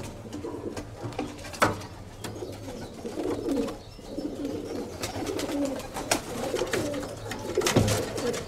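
Pigeons coo steadily at a fancy pigeon show in Salamina, a dense, continuous murmur of many birds with a few sharper calls rising above it, heard close and alone.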